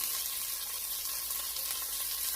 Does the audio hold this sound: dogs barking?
no